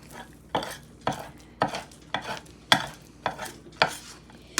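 Steady stirring of a hot candy cane sugar mixture tinted dark red in a pan, a quick run of regular scraping strokes about twice a second, close and clear with no talk.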